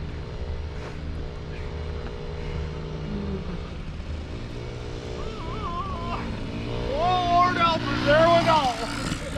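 Small engine of a 1979 Yamaha QT50 moped puttering steadily nearby, a constant buzzing drone, while people talk and shout excitedly over it.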